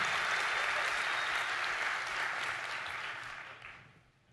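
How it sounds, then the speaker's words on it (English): Audience applause for a speaker at a conference talk, a full steady wash of clapping that holds evenly before tapering off toward the end. "So a big round of applause for Alex, please."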